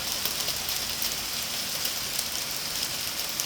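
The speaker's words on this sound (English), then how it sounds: "big hailstorm here." A hailstorm beats down outdoors in steady, dense pattering, with hailstones striking surfaces in a continuous hiss of fairly faint, close impacts.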